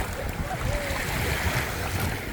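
Sea waves at Kilyos beach on Istanbul's coast give a constant broad wash of surf mixed with wind noise, steady and fairly loud throughout.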